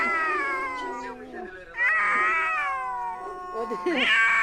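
Cats meow and yowl in long, drawn-out wails, several rising and falling cries in a row, close and fairly loud, with a tense caterwauling quality as they squabble over food.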